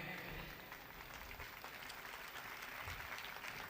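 A church congregation clapping during a sermon, a steady wash of applause from many hands filling the room with no clear break.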